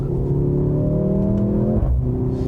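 A 2025 Mercedes-AMG GLC 43 accelerates with a steady rising engine drone and exhaust note from inside the car, ending in a brief crackle as the tone shifts near the end; pops are not distinct.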